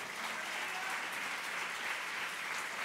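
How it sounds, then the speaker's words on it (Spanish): Steady, even applause from the audience at a women's church retreat, a dense wash of clapping that stays level throughout and sounds somewhat distant. "denle un fuerte aplauso al Rey."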